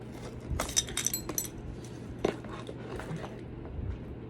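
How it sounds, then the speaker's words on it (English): A bunch of keys jangles and clinks in bright, irregular bursts close by, a few quick shakes followed by quieter rattles, with no talking. "Oh, no, I need my keys."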